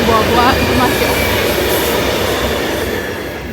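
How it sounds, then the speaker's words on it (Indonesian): A train passes along the railway tracks right next to the listener, a loud, continuous rumble and rattle of wheels on rails with some squealing, slowly fading toward the end. "Barusan ada kereta lewat"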